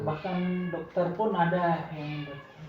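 A cat meows in a short televised anti-smoking advertisement, several drawn-out, rising and falling calls close and clear, with a voice speaking over them.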